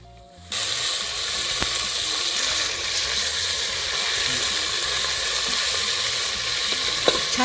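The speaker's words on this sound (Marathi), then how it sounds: "छान बसली फोडणी उलट" Spiced tempering for Solapur-style mutton curry sizzles hard in a pot over a wood-fired clay stove, a steady loud frying hiss that starts abruptly and runs continuously, with faint clinks of stirring.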